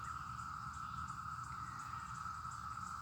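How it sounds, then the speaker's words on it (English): A cicada buzzes steadily in a summer vegetable garden in June, with a continuous high-pitched drone held at an even, moderate level against faint low background rumble and no talk. "Oh my God, cicada."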